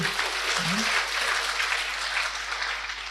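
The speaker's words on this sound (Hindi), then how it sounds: "अभी ताली बजाओ अपने लिए।" Applause from a seated audience at a spiritual talk, a steady wash of clapping filling the room for a few seconds, with a brief voice heard faintly underneath.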